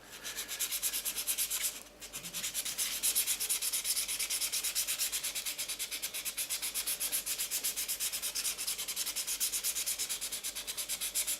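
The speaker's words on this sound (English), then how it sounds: "we'll go over those bits that we just sanded there with the 1200" Rhythmic back-and-forth rubbing of fine 1200-grit wet sandpaper on a block over brass, a steady scratchy stroke repeating quickly and closely, with a brief pause near the start.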